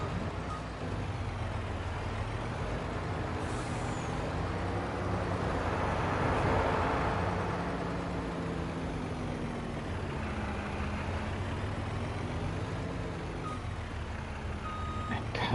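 A truck in the Farm Sim 25 video game idles with a rumbling engine while its reversing beeps repeat steadily throughout, loud and close. There is no separate air-brake hiss.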